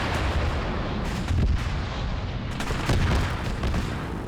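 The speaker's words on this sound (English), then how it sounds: "Something just exploded." Booming blasts and heavy gunfire from a mech combat video game, a dense continuous barrage with louder explosive swells around the middle and later on, no talking.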